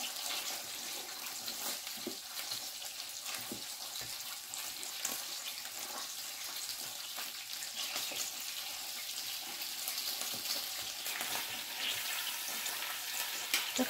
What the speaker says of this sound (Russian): Ух ты, аж кипит вот здесь жир.